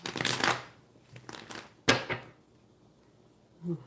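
Tarot cards shuffled by hand during a live reading, several quick riffling bursts with short pauses between them, close up and without speech.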